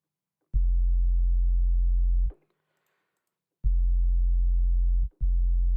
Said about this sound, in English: sub bass, which is just a sine wave.